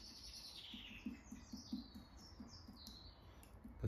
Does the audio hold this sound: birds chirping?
yes